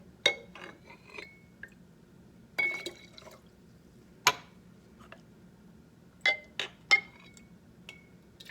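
Liquid dripping into a laboratory beaker, heard as sparse, separate glassy drips and clinks at irregular intervals, fairly close and quiet against a low steady background hum.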